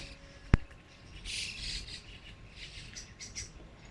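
Birds sing and chirp in a park at dawn in Japan, a steady outdoor chorus of calls with one sharp click near the start, no talking.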